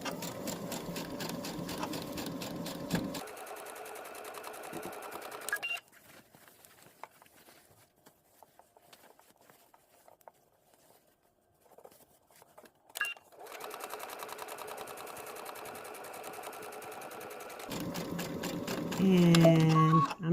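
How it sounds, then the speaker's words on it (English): Domestic sewing machine stitching a garment pattern, pivoting and back stitching at a corner: steady close mechanical whirr in bursts, stopping for quiet gaps between runs, with a soft voice talking over it. "I'm just going to back stitch right here at that corner there"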